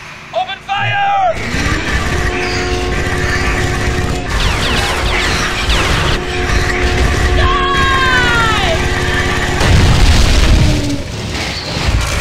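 Weapons firing during a Freespace space-combat cutscene, heard as a constant loud roar with booming blasts and whining tones beneath shouting voices.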